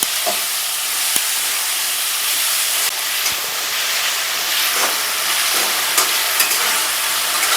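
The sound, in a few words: stir-frying mango with spices in a pan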